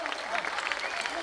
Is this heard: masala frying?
no